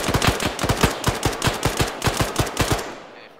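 Heavy machine gun in the Arma 3 video game firing a sustained burst of about twenty loud, evenly spaced shots, close and punchy, ending abruptly with a short fading echo.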